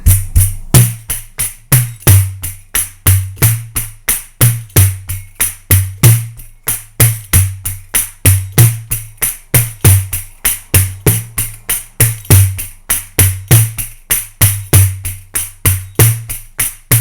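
A pandeiro plays a samba pattern in a fast, steady stream of crisp jingle hits and low thumps, repeating evenly and loud for the whole stretch with no voice.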